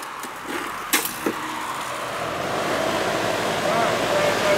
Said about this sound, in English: I don't think the compressor started, just the fan.